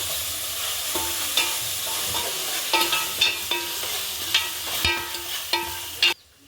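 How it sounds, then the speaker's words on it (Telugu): Ginger-garlic paste frying in a pan over a wood-fired village stove, a continuous sizzle punctuated by repeated metallic scrapes and taps of a spoon as it is stirred. "ఇప్పుడు అల్లం వెల్లిపాయ పేస్ట్ వేయించుకుందాం"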